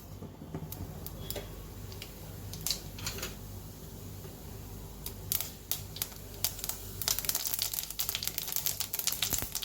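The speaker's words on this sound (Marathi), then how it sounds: "नेहमीसारखी जिरमोहरीची खमंग फोडणी करूया" Cumin and mustard seeds crackle and pop in hot oil for a brinjal dish tempering, with irregular sharp snaps that grow denser and louder toward the end.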